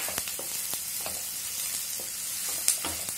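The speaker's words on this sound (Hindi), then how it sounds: "इसके बाद हम प्याज डाल रहे हैं। 2 बड़े साइज की प्याज डाले हैं हमने," Two large, finely chopped onions fry with sweet corn in a hot pan. A steady close sizzle runs throughout, broken by sharp stirring clicks and scrapes of a spoon against the pan.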